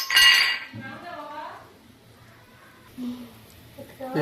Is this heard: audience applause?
no